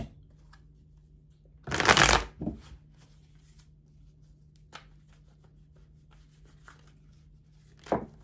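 A deck of tarot cards is shuffled in one brisk riffle, then there is a softer shuffle and a few faint taps and snaps of the cards, all set in a quiet room with a low steady hum.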